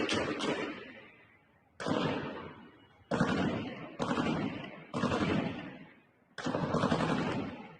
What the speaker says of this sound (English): This is war level gunfire.